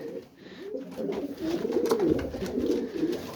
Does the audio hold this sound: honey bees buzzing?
no